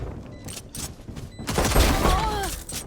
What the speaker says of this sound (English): Oh, look at that. That nice swarm grenade.